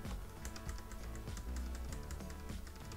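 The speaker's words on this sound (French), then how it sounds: "on appuie sur CTRL et plus sur le clavier" Keys on a computer keyboard are pressed in a quick series of soft, close taps, with a steady noisy background and no speech.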